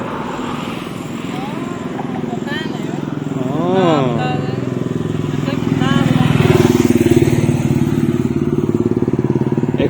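A Royal Enfield Meteor Fireball 350 motorcycle, freshly serviced, rumbles with a steady engine drone that swells louder partway through while someone talks over it.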